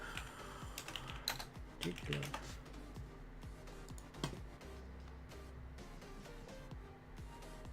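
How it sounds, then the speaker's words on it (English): Keys clatter on a Logitech G910 computer keyboard in quick, irregular bursts of light clicks, fairly faint and close, with some speech nearby. "I recently bought a keyboard, and I think it's also Logitech G910"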